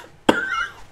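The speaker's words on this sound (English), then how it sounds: "I would just cough every time it said TNT" A single sharp cough, loud and close, followed by a brief trailing vocal tone, with faint background noise before it.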